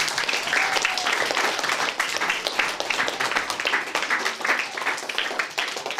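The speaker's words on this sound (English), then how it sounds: "So can we have a round of applause?" A full audience applauds steadily at a school prize-giving for competition winners, a dense, even wash of many hands clapping for the whole stretch with no voices on top.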